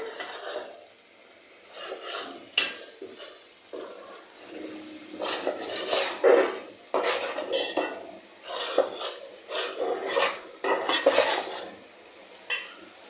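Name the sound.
stirring spices in a cooking pot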